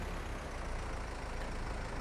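A tractor engine idles steadily in Farming Simulator 22, a low continuous rumble holding at an even level throughout with no talking over it.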